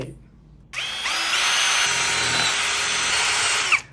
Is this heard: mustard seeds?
no